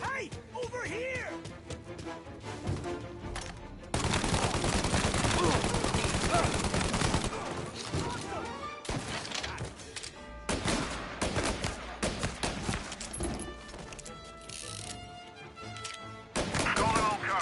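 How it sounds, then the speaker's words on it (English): Bursts of rapid gunfire crackle in the video game Mafia: Definitive Edition, with loud volleys and scattered single shots over a busy background. "Reports of gunshots rolling in."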